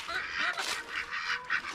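Backyard ducks and chickens call at feeding time, a few short nasal honking quacks in quick succession, fairly close but not loud.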